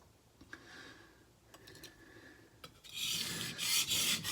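A kitchen knife drawn across a single whetstone, a few light scraping strokes with small taps, then a louder, sustained gritty rasp toward the end, close and alone.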